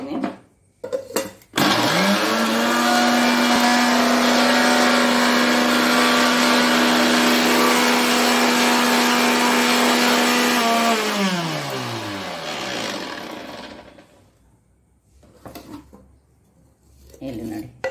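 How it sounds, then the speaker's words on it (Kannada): A mixer grinder whirs loudly as it grinds poha (flattened rice) into powder, a steady high motor drone running for about nine seconds before spinning down, with brief handling noises before and after. "ಸ್ವಲ್ಪ ಉಂಟಿದ್ರಲ್ಲಿ ಇನ್ನೂ ಸಹ ಇನ್ನೊಮ್ಮೆ ಗ್ರೈಂಡ್ ಮಾಡ್ತೇನೆ"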